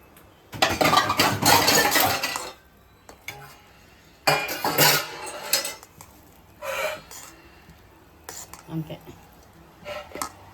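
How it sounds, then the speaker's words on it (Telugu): Clattering and clinking of a metal mixer-grinder jar being rinsed and handled, in several bursts separated by brief pauses. "కొంచెం ఈ మిక్సీ గిన్నె గిన్నె కడిగేసి"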